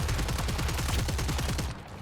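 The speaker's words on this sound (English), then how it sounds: "the turret's gonna shoot it" A turret in Killing Floor 3 fires a rapid, steady stream of gunfire that stays loud and continuous for most of the moment, then drops away abruptly near the end.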